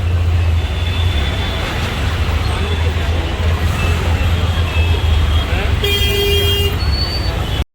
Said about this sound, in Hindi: चलो इतनी ज़्यादा ट्रैफिक है देखो।